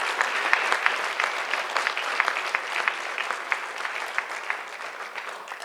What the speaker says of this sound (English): So help me applaud our coaching staff.